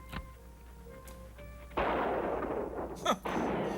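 A sudden burst of gunfire erupts after a quiet stretch, followed by a sustained loud, noisy wash and another sharp crack near the end.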